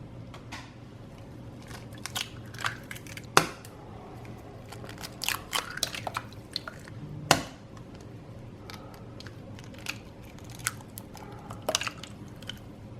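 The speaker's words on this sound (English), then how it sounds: "Now we're going to crack 3 large eggs into our mixing bowl" Three large eggs cracked one after another into a mixing bowl: a few sharp taps and crunchy shell breaks spaced out over quiet, with small wet drips and clicks in between.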